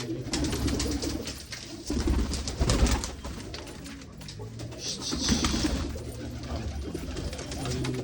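A Teddy pigeon coos in repeated low, throaty phrases close by, alongside rustling and handling noise over several seconds, with no clear speech.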